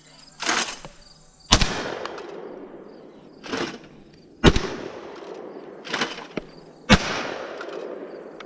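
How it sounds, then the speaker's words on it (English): Mossberg SA-28 shotgun with a full choke firing 7.5 shot shells at a range: six sharp, loud blasts spaced about a second or more apart, each followed by a brief decaying echo, with no talking. "I've not shot them out of this full choke yet, so let's see if they do anything different."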